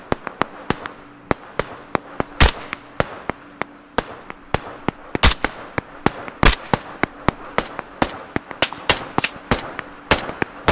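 Sniper and rifle fire in the video game Operation Harsh Doorstop comes as dozens of sharp, loud cracks, irregularly spaced and sometimes in quick pairs, over low ambient noise without speech.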